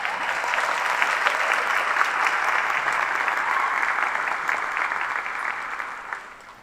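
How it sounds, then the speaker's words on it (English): A crowd applauds steadily for several seconds, clapping dense and loud before tapering slightly toward the end. "Can we have a round of applause"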